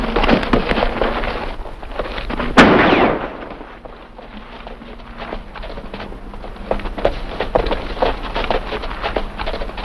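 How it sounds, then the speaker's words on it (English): Gunfire in a 1950 western film: a sharp single shot bursts out near the start of a busy stretch of clattering noise, followed by scattered, fainter cracks and knocks. "What's all this shooting for?"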